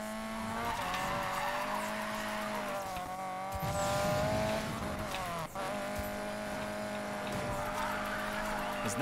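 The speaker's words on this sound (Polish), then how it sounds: "Czas na drift." A BMW E30 drifting in the racing game NFS Payback, its engine droning steadily with continuous loud tire squeal that shifts pitch through the slide and briefly cuts out near the middle.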